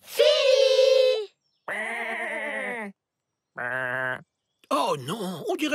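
Sheep bleating in a children's cartoon, three long, loud, wavering calls with short silences between them, then a rising and falling cry that sounds like a voice.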